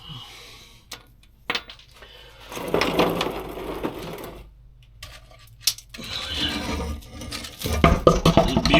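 An impact gun drives a socket onto bolts, giving intermittent rattling bursts of hammering between quieter pauses, close and fairly loud, amid clanks of tools and workshop noise.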